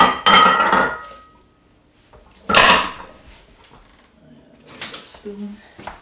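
Ingredients being tipped into a mixing bowl in a home kitchen, with clattering dish and utensil knocks in two bursts and quieter clinks after, and a voice talking in between.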